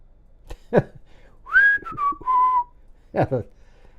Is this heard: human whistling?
yes